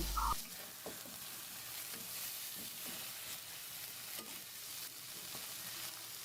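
Rui fish roe cooked with lemon leaves gets a brief stir in a pan, a steady soft sizzle running throughout with scattered light scrapes and taps, close and fairly quiet, no voices.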